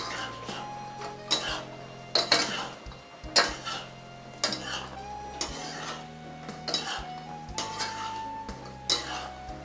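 Fried soybean chilli being mixed in a pan of boiling sauce, with a metal spoon clinking and scraping against the pan in irregular taps and short scrapes, close by, with no talk.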